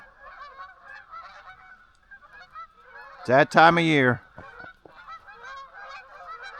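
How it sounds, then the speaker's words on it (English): Geese honk over farmland near a cornfield at harvest time, a short burst of loud, close calls breaking through a steady background of fainter, distant honking, with someone speaking briefly. "we got some geese ready to go south"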